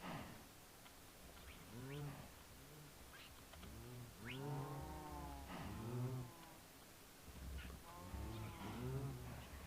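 Cows mooing in a Minecraft Project Ozone 3 modpack, with repeated game animal calls in overlapping bursts over steady background noise.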